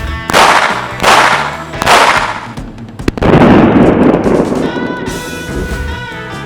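Loud sharp reports from a Colt Government Model .45 ACP pistol, three shots in quick succession followed by another blast and a long ringing, echoing tail.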